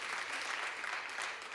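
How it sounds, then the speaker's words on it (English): A crowd applauds steadily, a dense wash of many hands clapping at once, sustained throughout without a break. "Can we just give Josh a round of applause?"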